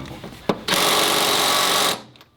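A small Ryobi power tool, likely an impact driver, tries to break loose crusty 15 mm suspension nuts on a 1997 Camaro. One sharp hit, then a loud steady whirring hammer lasting over a second that cuts off abruptly.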